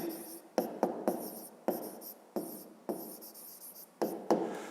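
A pen scratches across paper while a math exercise is worked out, a series of close, quiet strokes and taps in irregular bursts with brief pauses between.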